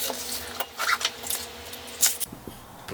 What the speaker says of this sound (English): Now the cucumber slice, we're going to put it into a bowl.